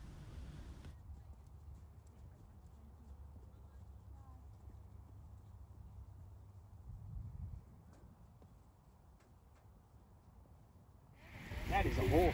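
Horse hooves at the show jumping round of a Hunter Trials event, a steady clip-clop cadence under crowd noise and talk, easing off partway through before a louder burst of activity near the end.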